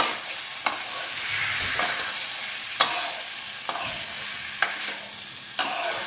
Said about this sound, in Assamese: এতিয়া ভালদৰে লৰাই দিছোঁ।